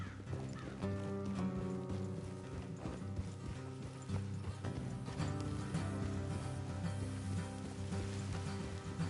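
Horses are ridden in Red Dead Redemption 2, their hooves clip-clopping in a steady rhythm beneath a continuous musical score and mechanical rattling, with no talk.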